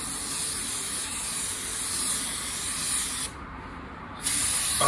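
Paint spray gun laying down car paint in an auto body prep setting, a loud continuous airy hiss that cuts out briefly and then resumes, close and steady, with no talking.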